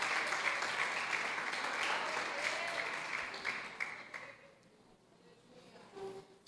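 A church congregation claps together in praise, dense steady applause that fills the room for several seconds before thinning out and fading to a few scattered claps.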